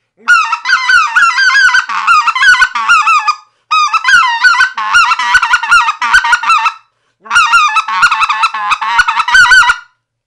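A specklebelly goose call is played in its mid range, sounding as three loud close runs of quick, yodeling clucks and honks with short gaps between them.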